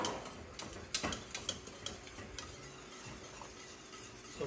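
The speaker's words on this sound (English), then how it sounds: "So we whisk it a little bit to make sure it's cooling down." A hot eggnog mixture, just off the boil, is whisked in a pot, with irregular light scraping and tapping strokes close by.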